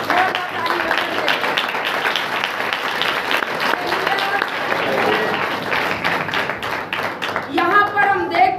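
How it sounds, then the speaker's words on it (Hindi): A church congregation claps loudly and continuously during a Hindi-language worship service, a dense sustained wash of applause from many hands that swells toward the end. "जोरदार ताली बजाइए।"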